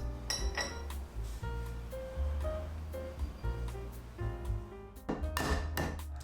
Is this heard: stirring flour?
yes